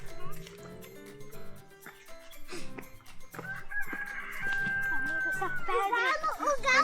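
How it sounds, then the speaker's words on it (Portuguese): A rooster crows once clearly at a campsite, a long rising call standing out amid children's chatter and excited voices, with other clucking bird sounds close by. "O galo cantou."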